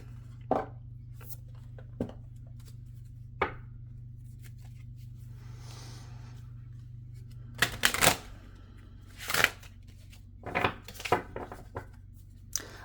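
Tarot cards drawn and shuffled by hand, several crisp riffles and slaps spaced irregularly over a steady low hum, close and fairly quiet with no talking.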